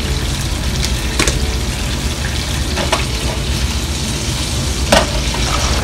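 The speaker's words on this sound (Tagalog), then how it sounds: "Yun din yung same oil na gagamitin natin para igisa itong ating veggies." Vegetables sauté in the same hot oil used earlier for searing salmon and frying shrimp, a steady dense sizzle with a few sharper crackles and clinks of stirring, close and continuous without talk.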